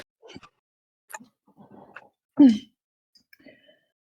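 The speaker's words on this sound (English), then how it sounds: "Someone sneezes off in the distance." A single sneeze bursts out at a moderate distance, brief and sharp, with faint scattered voices and small noises around it.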